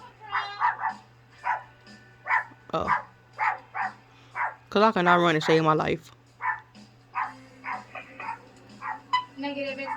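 A Chihuahua barks in a string of short, sharp yaps spread across the moment, with someone talking over and between the barks near a steady low hum.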